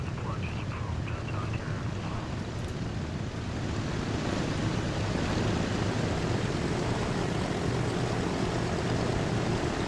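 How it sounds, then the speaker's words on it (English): Airplanes in the Transport Fever 2 game make a steady, continuous propeller drone that fills the whole stretch at an even loudness. "these planes are starting to kind of get old"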